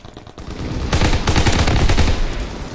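Rapid automatic gunfire from a Call of Duty: WWII weapon, a dense run of loud, close shots that starts abruptly and holds steady for a couple of seconds with no talk over it.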